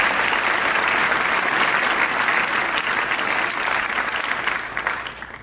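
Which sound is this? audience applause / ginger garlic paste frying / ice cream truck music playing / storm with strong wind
audience applause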